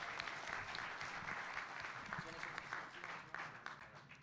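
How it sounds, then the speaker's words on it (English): Audience applause at a comic convention drawing panel, a fairly faint, even patter of many hands clapping together that carries on steadily, with a voice underneath. "Big round of applause for Cully for going first."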